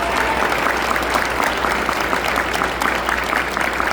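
An audience at a university's Feast of Nations event applauds President Armakos, a dense, steady round of clapping from a large crowd that holds at full strength throughout.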